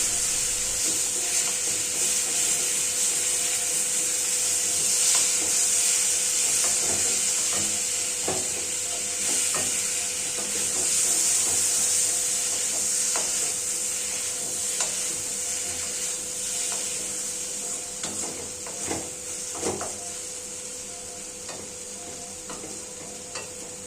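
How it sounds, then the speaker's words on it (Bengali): Chopped tomatoes and spices being stirred in a pan for a curry-leaf egg curry, a steady close sizzle with repeated scraping spoon strokes running throughout, no voices. "উপকরণ একটু কষা হয়ে গেলে তাতে আমরা কুচি করে কেটে রাখা টমেটোগুলো দিয়ে দেব। সমস্ত কিছু খুব ভালোভাবে মাখামাখি করে নিচ্ছি।"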